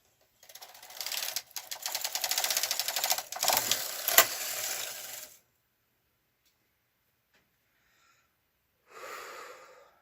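A knitting machine carriage runs across a row of a yoke sweater front, giving a rattling, whirring clatter for about five seconds before stopping, then a brief softer rustle a few seconds later.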